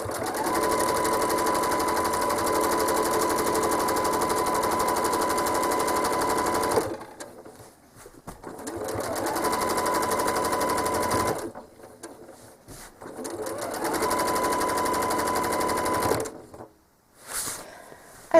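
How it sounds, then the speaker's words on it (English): A home sewing machine stitches quilting curves corner to corner, three long runs of rapid, steady mechanical clatter separated by short pauses, close and loud with no voices. "all I'm doing is stitching a curve from corner to corner along the edges all the way up one side"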